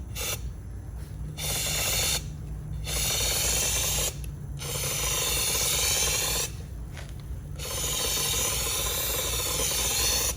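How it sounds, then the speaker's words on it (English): Harbor Freight powder coating gun spraying red powder in a home setup: several long, steady hissing bursts separated by brief pauses, close and fairly loud over a constant low hum. "So we are about to spray the red."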